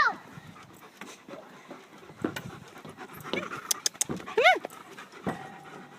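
A dog at a park pants quickly and softly close by, with a few whimpers and squeaky yips. A person speaks briefly over it.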